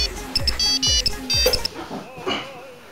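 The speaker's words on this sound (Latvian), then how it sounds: "Tā klausās mums ir zvans studijā atkal." Telephone ringing in a radio studio, several repeated bright electronic ring bursts over the first second and a half, then stopping as a voice begins talking.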